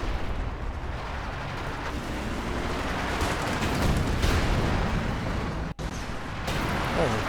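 Mortar shell blasts in a video game tournament match land amid a dense, continuous roar of battle, with loud booming rumble throughout and a voice talking over it.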